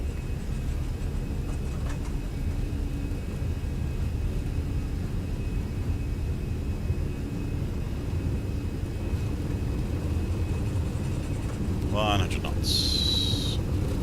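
Airbus A320 jet engines at takeoff thrust, a steady broad roar that fills the cockpit throughout, with a brief burst of chimes and tones near the end.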